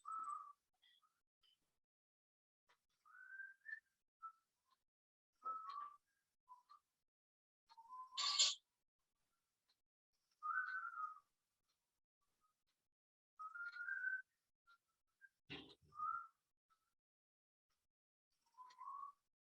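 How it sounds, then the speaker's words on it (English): A man whistles a folk tune from behind a door in short, faint, muffled phrases separated by pauses, with no one talking. "Can you just let us listen to his whistling for a moment?"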